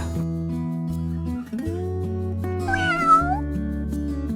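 A pet cat meows several times in a row, close and fairly loud, with drawn-out rising and falling cries, alone with no talking.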